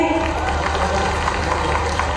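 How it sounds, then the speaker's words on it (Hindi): A large crowd claps loudly and continuously for Mohan Yadav at a tribal student awards ceremony in Khandwa, a dense even wash of applause with a low rumble beneath it. "जोरदार ताली मोहन जी की लिए भाई"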